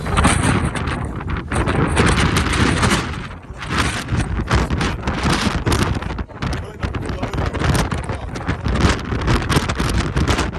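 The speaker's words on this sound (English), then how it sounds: "and then the wind came. Massive wind." Massive wind roars across the top of sea cliffs above the Black Sand Beach in Iceland, a loud, unbroken blast of gusts pummelling the microphone with brief lulls.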